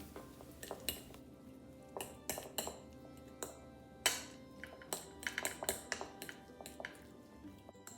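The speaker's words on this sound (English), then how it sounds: "We're going to take that salmon and we're just going to stir it all up until it becomes a delicious, creamy filling." A spoon stirs a filling of salmon, egg yolk and mayonnaise in a bowl, with a steady run of sharp, close clinks and taps against the bowl at an irregular rhythm and no talking.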